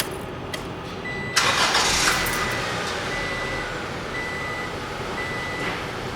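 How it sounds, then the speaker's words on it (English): A car engine with an automatic transaxle cranks and catches, then settles into a steady idle to warm up, with faint intermittent beeping over the low hum. "The first steps will include starting the engine to warm up the engine and the transaxle."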